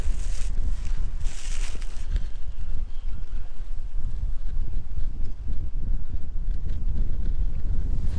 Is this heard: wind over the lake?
yes